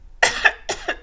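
An old man coughs in two quick pairs, close and harsh, each burst short and chesty with brief silence between, no talking around it.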